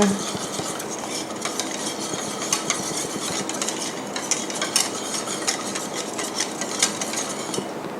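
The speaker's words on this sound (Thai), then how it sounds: "คนนะคะให้เข้ากัน" A utensil stirs tapioca starch mixed with water in a bowl, making a continuous close swishing with repeated light clinks and taps against the sides, and no voices.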